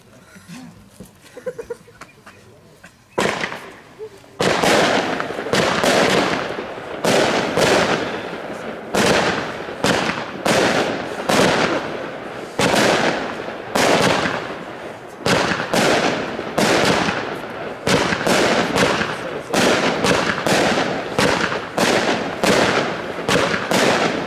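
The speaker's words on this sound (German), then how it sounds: "die 19-Schuss-Batterie Draconia, im Standardsortiment, manchmal auch als Thermanitor bekannt" The 19-shot Draconia firework battery firing at a pyrotechnics show: a rapid, evenly spaced series of loud cracking bursts after a quiet start, with faint crowd sound in between.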